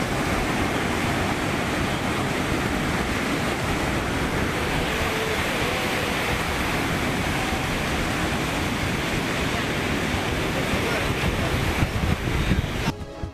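Sea waves wash onto a temple beach where devotees bathe, a steady, broad roar of surf and wind noise that holds at an even level throughout, with no distinct voices.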